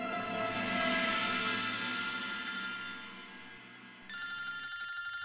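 A telephone rings indoors with a bright electronic tone, sounding continuously before a brief dip and then resuming just as loudly.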